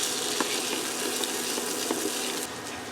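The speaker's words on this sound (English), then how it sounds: "we're going to saute this down just a little bit more until all the flavors are incorporated" Vegetables sauteing in a pot for creamy asparagus soup, a dense steady sizzle close up with faint stirring taps, continuous for a few seconds and no speech.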